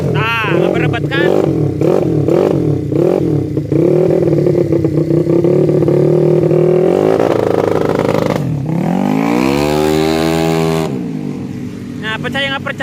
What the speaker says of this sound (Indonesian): Coba dijengat-jengat sedikit biar agak meriah gitu, Don.